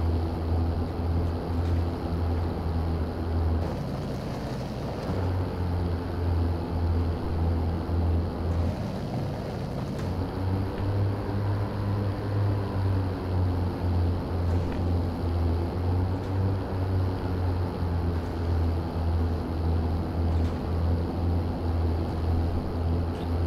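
A vehicle in Call of Duty Warzone drives along a road, giving a steady low engine drone with rushing wind-like noise throughout, dipping briefly a couple of times, with no talking.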